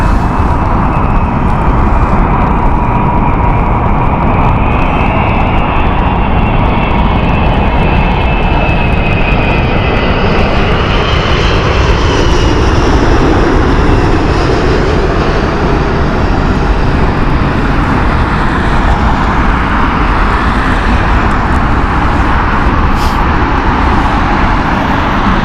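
Emirates EK29 airliner from Dubai landing at Heathrow Airport, a loud, sustained jet roar with a whining engine tone that shifts gradually in pitch as the plane passes close by.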